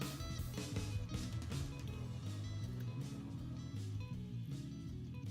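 Strummed guitar chord from a synth preset, looping over and over without decaying, in a layered song mix: a steady dense wash of repeating harmonic tones with continuous, even loudness throughout.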